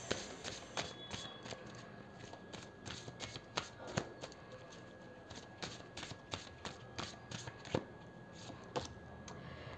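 Tarot cards are shuffled for a reading, producing repeated sharp, close slaps and riffling flutters in bursts over quiet background.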